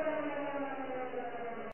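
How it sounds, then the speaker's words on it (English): A siren wails steadily and fairly loud, a sustained tonal drone with harmonics that holds for under two seconds before cutting off abruptly. "Is that a siren I hear?"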